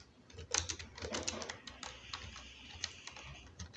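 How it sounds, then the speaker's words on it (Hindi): Typing on a computer keyboard while entering text into a document, with rapid, close, clicky keystrokes in an irregular rhythm throughout and no speech over it. "मैं यहाँ लिख देता हूँ जमाल"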